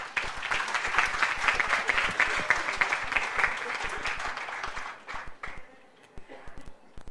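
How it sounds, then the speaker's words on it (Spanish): An audience at a national educators' training workshop claps for a teacher from Michoacán, a dense, steady applause that thins into scattered claps toward the end. "Un aplauso también para ella."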